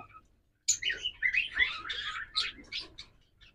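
Black opaline Fischer's lovebirds give shrill, rapid chirps and squeaky calls in a close burst after a brief silence, fading toward the end.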